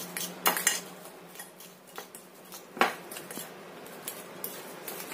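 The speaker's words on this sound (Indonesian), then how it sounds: "Kita aduk rata lagi." A spoon scrapes and clinks against a bowl while a potato snack mixture is stirred, with a few sharp clacks and softer irregular scraping strokes, close and quiet without talk.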